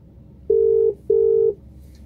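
Phone dialing tone from a call placed through Siri: two identical steady electronic beeps, each about half a second long with a short gap between, loud and clear over quiet background.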